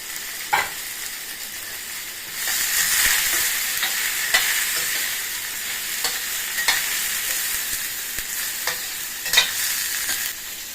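Cumin seeds frying in a little oil in a pan, a steady bright sizzle that swells louder after a couple of seconds, with scattered crackles and pops throughout, close and alone with no voices.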